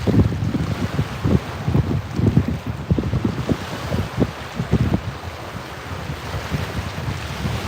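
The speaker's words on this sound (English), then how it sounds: "it is very, very windy today" Strong wind gusts buffet the microphone out on the Wisconsin River, a loud, continuous rumbling roar with waves lapping underneath, during a March spring walleye fishing trip.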